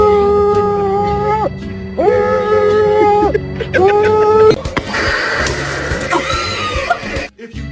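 A dog howls loudly and close in long, drawn-out wavering tones, three howls in a row, followed by a rougher, noisier stretch that sounds like a person shouting over it.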